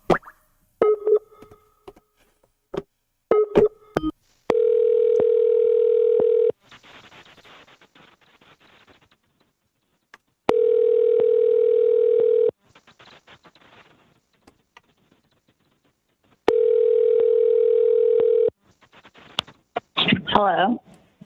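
A telephone ringback tone while dialing a number: a steady, loud tone sounding in long bursts separated by silences, preceded by short dialing clicks and beeps, with a brief voice near the end.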